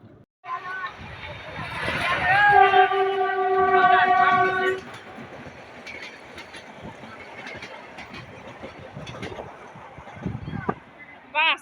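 A train horn blares for a couple of seconds amid rumbling rail noise near Talala in Gir, Gujarat, followed by steady clattering of cars with a voice talking faintly underneath.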